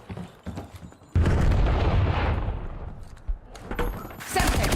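A Semtex grenade detonates in the Call of Duty Black Ops video game, a sudden loud boom followed by a rumbling tail, surrounded by scattered gunfire and game sounds.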